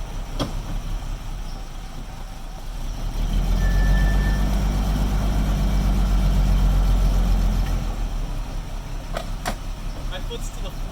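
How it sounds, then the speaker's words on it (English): Broken Jaguar's engine idling rough in a driveway, a low steady rumble that swells louder for several seconds in the middle and then settles, with faint clicks and background noise around it. "The engine idles rough"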